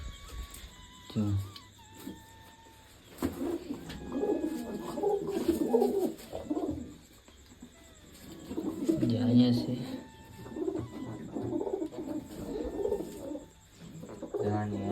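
Pigeons kept indoors during a rainstorm coo in low, throaty bursts, several birds close by, with soft wing flutters and occasional chirps between the calls.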